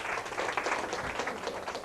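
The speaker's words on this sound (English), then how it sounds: "Let's give her a round of applause for being brave." An audience at a puppet show gives a round of applause, a dense patter of many hands clapping at a moderate level, continuous throughout the short burst.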